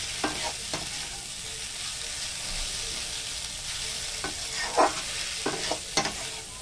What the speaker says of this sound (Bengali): আমাদের ছোলা শাক ভাজা হয়ে গেছে আলু দিয়ে।